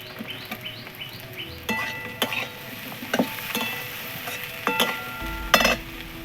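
Vegetables and tomato being stirred in a frying pot with dal for sambar, a steady sizzle under repeated scraping and clatter of a spoon, close and moderately loud, with faint birdsong in the background.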